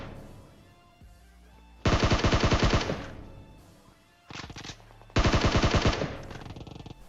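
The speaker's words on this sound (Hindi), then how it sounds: "बिल्कुल ओपन में खड़े होके M4 पटका रहा होता है" Automatic M4 rifle fire in the video game PUBG Mobile: two long, loud, rapid bursts, with a shorter burst between them. Each burst trails off in echo.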